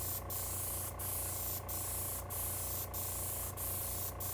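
An airbrush sprays paint onto an HO scale model, a steady close hiss broken by about seven brief pauses at a fairly even rhythm, with a low hum underneath and no voices.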